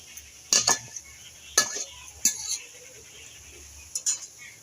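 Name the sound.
lid placed over pan of drumstick leaves (sajne shak) cooking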